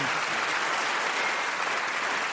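A studio audience at a radio panel comedy show breaks into a big, steady round of applause that fills the whole stretch without pause, dense and continuous with no voices standing out.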